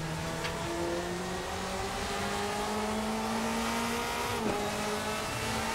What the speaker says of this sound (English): You hear all that dirt being kicked out of the car.